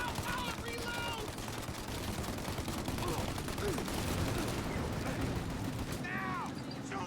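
Gunfire in the video game Mafia: Definitive Edition, a dense barrage of rapid shots and bursts crackling continuously, with raised voices shouting over it at points.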